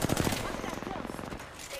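Fast automatic gunfire in Apex Legends, a quick rattling burst of shots close by, with a voice speaking over the shooting during the brief moment.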